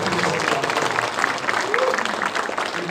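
Audience applause in a hall at a Korean political gathering at a chamber of commerce, a steady continuous wash of clapping at moderate level throughout, with a crowd murmur underneath.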